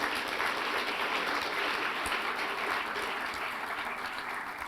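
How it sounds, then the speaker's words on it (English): An audience at an awards ceremony applauds three honourees, a steady, even roll of crowd clapping heard alone and slowly easing off near the end. "A round of applause for all three."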